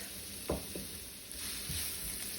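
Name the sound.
onion and garlic sautéing in a pan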